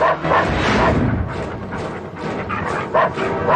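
Police dogs bark loudly and close in a rapid, dense run of barks and yips, in an action-film scene.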